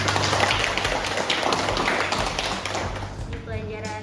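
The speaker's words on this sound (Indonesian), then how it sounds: "tepuk tangan dulu buat Arya" Classmates in a math class clap for a student named Arya, a brisk patter of many hands close by that thins out near the end as a voice begins speaking.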